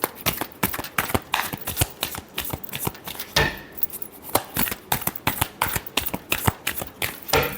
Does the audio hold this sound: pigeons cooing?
no